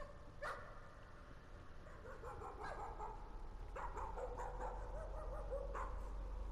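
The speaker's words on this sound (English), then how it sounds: "Doggy bark." Dog barking inside the horror video game Layers of Fear, several distinct barks spaced over a steady low ambient drone, moderately near and clear.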